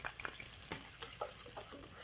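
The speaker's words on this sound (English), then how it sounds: "We're going to saute these shallots." Shallots sautéing in a pan give a faint, low sizzle broken by soft spoon clicks and scrapes at irregular moments.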